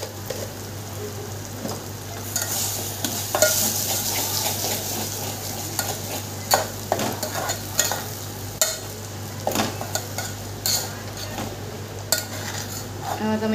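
Masala frying in oil as it is stirred for a mutton dish, a steady soft sizzle under repeated scraping and clinks of a spoon against the pan, moderately close and with no talk.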